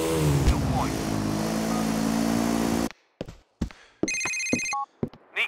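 A payphone rings in GTA 4 on a street corner, its bell sounding in repeated bursts separated by short gaps. Before that comes a steady wash of city traffic and engine noise.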